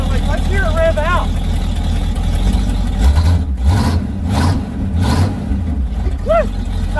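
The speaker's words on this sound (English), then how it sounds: "let's hear it rev out." A truck engine revs up hard and loud in several swelling bursts, close by, with people talking and whooping over and between the revs.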